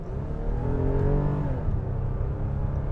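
A 2017 Lexus ES 350's 3.5-liter V6 revs steadily from inside the car, a smooth rising and falling engine drone with no talk over it.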